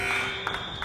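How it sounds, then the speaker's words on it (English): Final buzzer at a girls varsity basketball game against the Bellingham Blackhawks, a steady sustained electronic tone lasting the whole brief moment, with gym crowd noise underneath. "The final buzzer going off."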